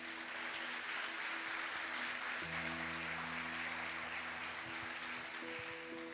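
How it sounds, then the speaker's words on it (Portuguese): A church congregation applauds steadily for several seconds, a dense, even wash of clapping heard from a distance, with a low hum of sustained keyboard or organ tones underneath. "Você pode aplaudir a Ele por isso?"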